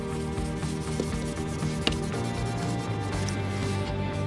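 Steady, gentle rubbing of sandpaper against a car headlight, light up-and-down strokes continuing throughout with a faint musical tone in the background.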